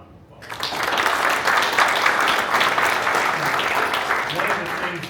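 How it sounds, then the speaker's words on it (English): Dense, steady audience applause bursts in after a brief quiet moment and keeps going strongly at an event honoring a Junior Achievement president. "I think she deserves another round of applause."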